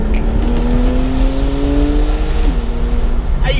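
A Porsche 911 Targa 4S with exhaust valves, a loud close engine drone with a rising tonal whine as it pulls, continuous and without talking.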